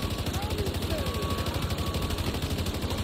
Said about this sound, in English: Casually shooting the decoy.